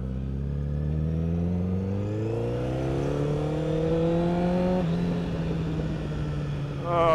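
Honda CBR motorcycle engine starting after sitting almost a month, then revving up in rising sweeps, loud and close, settling briefly before another quick blip.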